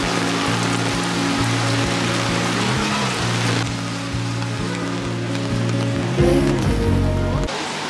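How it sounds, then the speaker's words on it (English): Steady rain pours over a cold, rainy Paris street, a dense continuous wash of drops with low background hum throughout. "It's really cold and rainy,"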